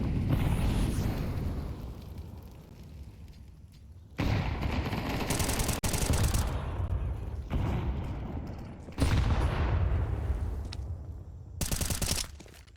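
Grenade exchange in a Counter-Strike match on the Ancient map, a string of sharp explosive bursts and gunfire-like cracks recurring every few seconds, each decaying into a rumbling tail, with faint commentary beneath.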